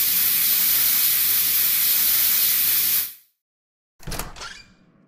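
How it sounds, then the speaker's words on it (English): A fire extinguisher sprays a loud, steady hiss for about three seconds, then cuts out abruptly; after a short silence comes a brief, sharp clattering burst. "You sprayed them with the fire extinguisher."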